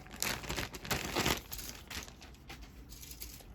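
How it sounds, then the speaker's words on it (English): Close, crackly crinkling of a plastic bag being handled, with bursts of rustling that fade to softer crinkles. "that is a nice pile of plastic with a plastic bag around it"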